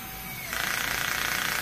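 An electric drill's clutch clicks in a rapid, even ratcheting rhythm as a screw tightens during bird cage assembly, loud and close after a brief steady whir.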